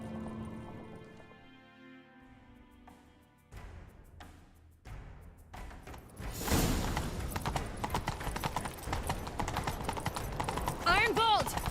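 Horse hooves galloping in The Witcher 3: Wild Hunt, a rhythmic clip-clop that builds and grows louder midway, over game music with voices talking and a brief whinny near the end.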